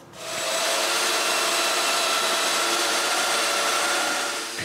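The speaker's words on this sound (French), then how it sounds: "je marque l'endroit où il y aura des dominos, puis on les perce" Domino joiner cutting mortises into cedar patio table parts, a steady high-pitched motor whine with cutting noise that holds loud and unbroken for several seconds.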